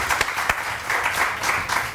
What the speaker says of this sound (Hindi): सेट पे तो तालियां होनी चाहिए